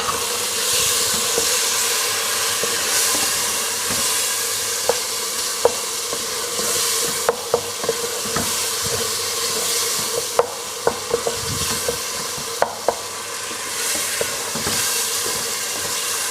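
Tomatoes sizzle in a pan of fried garlic for lauki chana dal, a loud continuous frying hiss broken by occasional sharp spatters and stirring clicks.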